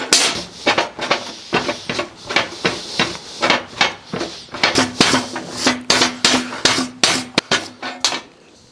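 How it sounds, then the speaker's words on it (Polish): A very hard, sharp scraper made from an old file scrapes a rusty bolt thread in repeated short strokes, gritty metallic rasps coming in an uneven rhythm, close and fairly loud. "Muszę przetrzeć szpatą"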